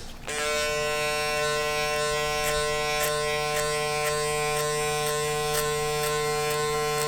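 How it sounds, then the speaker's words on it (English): An electric hair clipper buzzes steadily and close up, cutting hair with only its corner during a burst fade mohawk, giving a constant bright hum with faint rhythmic ticks. "I'm not using the whole clipper, just using the corner."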